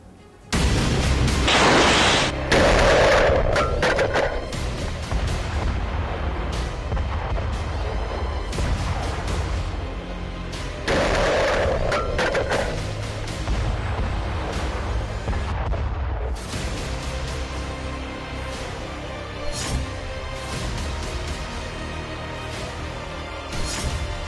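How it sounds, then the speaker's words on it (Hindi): Heavy booms and crashing blasts of missile and artillery fire in a war zone, two big loud impacts followed by sustained rumbling and scattered cracks, with no voices. "रूस मिसाइलें दागता है, यूक्रेन तबाह होता है।"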